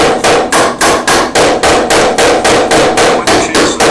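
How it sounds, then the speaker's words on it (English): A hammer from a car's tool bag strikes repeatedly in a steady, fast rhythm, about four blows a second, each one loud, close and sharp, with no talking. "we may need the hammer from the tool bag"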